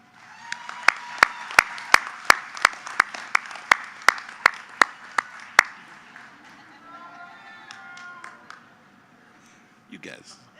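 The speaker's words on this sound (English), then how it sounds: "take this time to thank your family and friends with one big round of applause" Graduation audience at a spring commencement breaks into applause, a dense crowd clapping with a string of loud, sharp claps close by on top. The clapping fades after about six seconds as a speaker's voice takes over.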